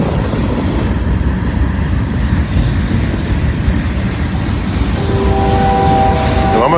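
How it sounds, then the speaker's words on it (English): A train rumbles past loudly and close on the adjacent track, a continuous roar of wheels and rail noise throughout. "Yep, got a train coming the other way."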